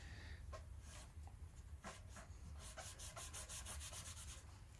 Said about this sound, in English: I'm just going to take my damp rag